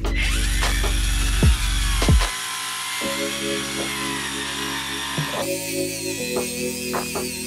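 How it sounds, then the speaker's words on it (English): An angle grinder fitted with a flap disc strips paint from metal on a Mondeo ST, giving a loud, steady high whine that drops in pitch as it bears into the surface and rises again as the load eases. "I used a angle grinder with a flap disc on, and I've started to take the paint off"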